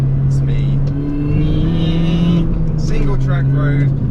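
Supercharger whine and exhaust note of an R53 Mini Cooper S driving a sunny single-track country road, a steady engine tone from inside the car with someone talking over it.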